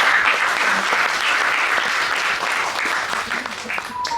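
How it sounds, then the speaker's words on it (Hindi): A theatre audience at a play breaks into loud, sustained clapping that fills the room and fades slightly near the end. "मैं चाहूंगा दर्शकों से जोरदार तालियां"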